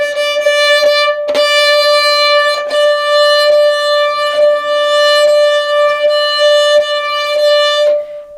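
A bowed string instrument played at the tip of the bow with the wrist flipped so the stick tilts about 45 degrees, in Russian bow technique: a loud, sustained, steady tone with bright overtones, continuing alone for about eight seconds with a few brief bow changes.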